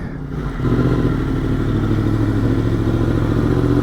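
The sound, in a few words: Yamaha FZ-10 motorcycle riding on commute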